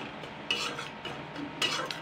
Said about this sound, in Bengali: তো এটা কিন্তু হালকা নেড়ে চেড়ে নিয়েছি